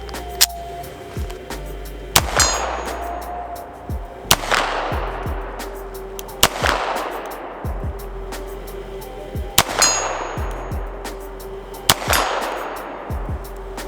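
Jericho 941 F9 pistol fired at steel targets 50 yards away: six loud, evenly spaced shots, each followed by a faint ringing clang from the distant steel and a short echo tail, with no talking.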